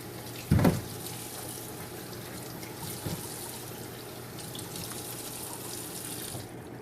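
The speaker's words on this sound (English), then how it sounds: "Wash it very, very well." Tap water runs steadily into a sink with a soft splashing hiss while carrots are washed under it, broken by a brief louder splash near the start and a small clatter later.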